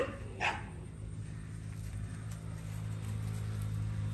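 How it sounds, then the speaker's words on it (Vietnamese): A pet dog indoors barks insistently, wanting to go out and play. A single clear bark up front, then quieter yips over steady background hum. "Sủa quá trời đòi ra chơi."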